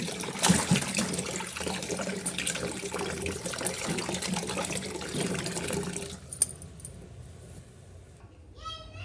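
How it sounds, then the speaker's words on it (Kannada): Cut pumpkin pieces are washed under running water, a continuous close splash and trickle for about six seconds that then drops to quieter dribbling with a sharp clink, while a voice speaks over it. "ನೋಡಿ ಇವಾಗ ಕ್ಲೀನಾಗಿ ಕುಂಬಳಕಾಯಿ ಹೋಳುಗಳನ್ನು ಕಟ್ ಮಾಡ್ಕೊಂಡಿರುವಂತಹದ್ದು ಕ್ಲೀನಾಗಿ ತೊಳೆದುಕೊಳ್ಳಿ"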